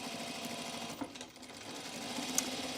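A sewing machine top-stitches a Fairfield button-up shirt, giving a quiet, continuous mechanical drone with one small click near the end.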